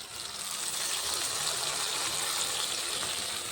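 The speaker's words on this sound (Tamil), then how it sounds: "நமக்கு தேவையில்ல தண்ணி ஊற்றிக்கிறோம்." Water pours steadily into a cooking pot of tamarind kara kuzhambu, a continuous close gushing stream.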